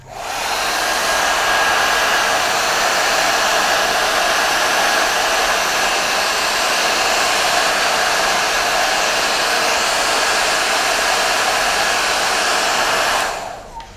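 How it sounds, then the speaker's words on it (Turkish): A hair dryer blows steadily at close range onto a phone screen protector, with a loud, even whoosh that holds for about thirteen seconds before switching off. "Evet, fönledim ve şu anda sıcak."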